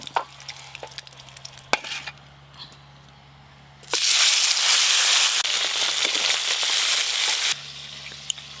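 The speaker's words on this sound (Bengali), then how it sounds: "এবার বাটা মাছগুলো ভেজে নেব" Small bata fish sizzle in hot oil in a Bengali home kitchen; quiet stirring and clinks come first, then a loud, dense frying hiss bursts in midway, holds for several seconds and cuts back to softer sounds.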